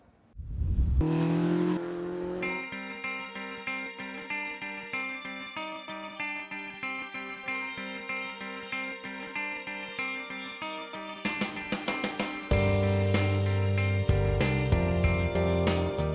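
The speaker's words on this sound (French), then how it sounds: "la Legend Car, c'est un petit bolide qui vient des États-Unis" A Legend Car race car with a motorcycle engine drives on a track, its engine note steady and loud, rising in pitch with revving through the run and shifting sharply near the end.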